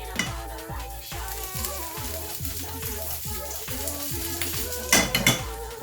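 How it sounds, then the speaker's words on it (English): Ginger frying in warm olive oil in a pan, a steady close sizzle with light stirring and utensil clinks against the pan and a brief louder clatter near the end. "First thing I'm going to do is I'm just going to put in the ginger."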